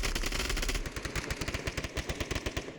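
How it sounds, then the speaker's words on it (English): Rapid bursts of automatic gunfire in the VR shooter Onward crackle in a fast rhythmic string, loud and punchy, with steady background noise underneath. "as Phenoram heralds his approach with a round of gunfire for Nynx Dragon to listen to."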